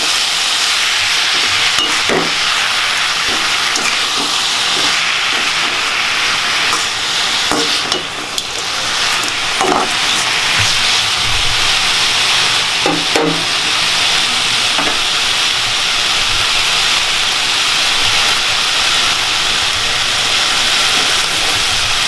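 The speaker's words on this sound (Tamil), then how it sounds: "ஸோ இப்போ நான் எல்லாம் போட்டு வதக்குறேன்" Vallarai (pennywort) leaves sauté in a pan over high heat, giving a loud, steady sizzle with occasional scraping stirs throughout.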